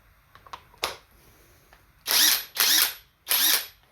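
Alloyman 20V brushless 1/2-inch impact wrench removing a tightened nut, a quick spin-up followed by three loud, close hammering bursts with short pauses between, then stopping.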